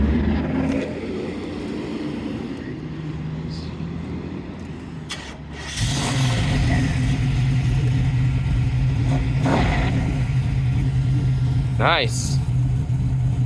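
A 1978 Nova's 406 roller engine with solid lifters cranks and fires, then settles into a loud, lumpy idle with several sharp revs. A brief voice comments over it.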